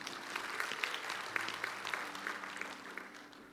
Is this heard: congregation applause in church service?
yes